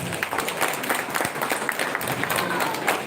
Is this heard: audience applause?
yes